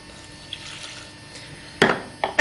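Water trickles faintly into a mixture of crushed garlic and vinegar, followed by a couple of brief, louder splashing pours near the end.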